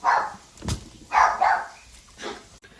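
A dog barks several times from behind closed doors indoors, a few sharp, moderately loud barks spaced irregularly with short pauses between them.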